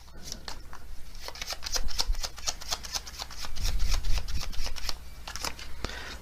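Oracle cards being shuffled by hand, close up: a rapid, continuous string of papery slaps and flicks with brief louder bursts, and no talking over it.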